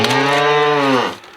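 A nurse cow kept with calves lets out a single loud, steady moo lasting about a second, close to the listener, then falls silent; no one speaks over it.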